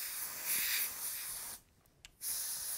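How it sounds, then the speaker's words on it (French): A can of compressed dry air blows dust off camera gear in close, loud hissing bursts, with a short break of near silence before the spray resumes. "c'est très très bien d'utiliser de l'air sec en bombe"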